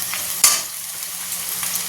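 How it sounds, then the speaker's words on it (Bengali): Onions sizzling and crackling steadily in a hot pan, with a brief scrape of stirring partway through. "আর এখানে পেঁয়াজ ভাজছি"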